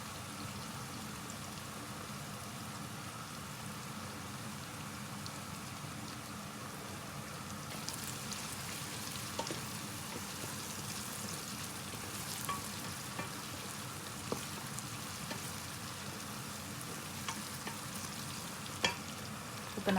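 Fennel seeds crackle and sizzle in hot oil for chicken fried rice, a continuous soft frying hiss with occasional small pops, close up and steady.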